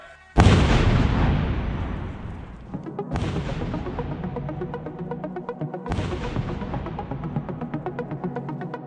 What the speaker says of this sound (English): we're going to take out the detonator here and attach it to the live explosive